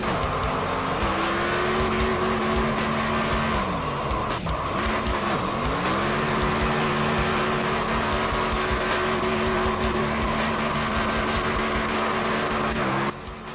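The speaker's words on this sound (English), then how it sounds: "Here's a Grant Wesley burnout." A Grant Wesley race car does a smoky burnout, its engine holding a loud, steady roar while tires squeal continuously; the pitch dips and swoops twice midway as the car slides around, then the howl carries on to the end.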